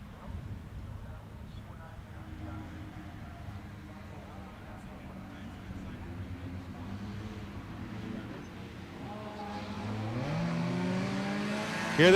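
Bone-stock cars racing on a short track at Grand Bend on Labour Day Sunday, engines droning steadily from a distance and swelling louder toward the end as the field gets the green flag and passes closer.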